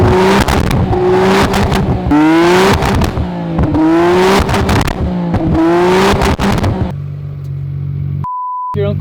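Nissan GT-R with a new aftermarket exhaust revs hard and close, several rising and falling blips in quick succession, then settles to a steady loud idle, with a brief electronic beep near the end.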